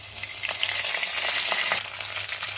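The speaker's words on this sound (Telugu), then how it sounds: "పచ్చిమిరపకాయలు వేసుకోవాలి ఒకసారి చక్కగా వేయించుకోవాలి కొద్దిగా కరివేపాకు వేసుకోవాలి" Mustard seeds, cumin, dried red chilies, green chilies and curry leaves fry in oil as a cabbage curry tempering, a close, brief burst of bright crackling sizzle with a few stirring scrapes.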